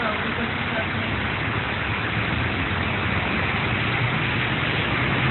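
Heavy storm rain pours down as a dense, steady, close hiss that fills the whole clip without a break.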